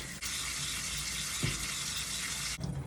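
Tap water runs steadily into a sink as onions are rinsed under it, giving a constant close splashing gush with a brief dip in flow near the end.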